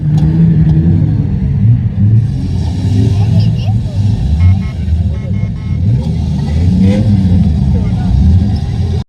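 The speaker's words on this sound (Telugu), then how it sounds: "అసలు ఆ కారు చూడండి ఇసుకలో ఎంత పోరాడుతుందో బయటకు రావడానికి" A car stuck in desert sand at the Liwa festival near Abu Dhabi revs its engine in loud, surging rumbles, with people talking over the straining motor.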